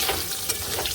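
Sliced pointed gourd (potol) fries in a pan of hot oil, giving a brief, continuous close-up sizzle with soft crackling.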